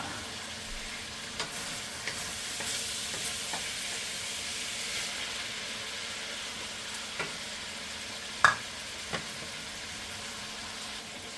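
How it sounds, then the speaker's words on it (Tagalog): Garlic, onion and pepper frying in a pan for string beans adobo with meat: a steady close sizzle with occasional stirring clicks and one sharper utensil knock, no talking. "Lagyan na natin yung bawang, sibuyas at saka paminta."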